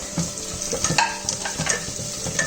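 Cashew nuts and onion fry in a pan, a steady close sizzle with occasional scraping stirs and small crackles throughout, alone without talk.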